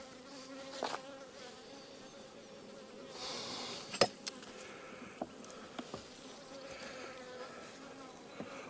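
Italian honey bees hum faintly around an open hive frame during a spring inspection, with a soft steady buzz broken by a few sharp clicks and knocks nearby.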